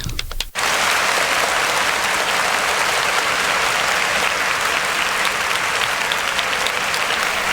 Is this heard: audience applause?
yes